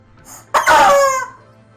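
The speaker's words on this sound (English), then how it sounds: "It's supposedly the loudest rubber chicken in the world." A loud rubber chicken toy gives one sharp, strained squawk lasting about half a second, close and alone after a faint background hum.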